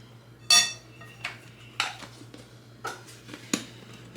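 A small spoon scrapes and taps against a cooking pot while minced garlic goes into a Barbados lamb stew, giving about five separate metallic clinks spaced across a few seconds over a low steady hum.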